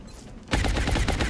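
Sustained burst of suppressing automatic gunfire in the XCOM Long War video game, a rapid rattling string of shots starting abruptly and continuing loud to the end.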